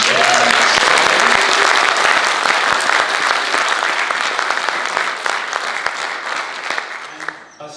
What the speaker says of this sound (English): We give a huge round of applause to the Mariestad Nielsen Energy team for coming and sharing their story